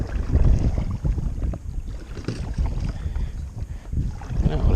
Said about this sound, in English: It would help if the wind wasn't blowing.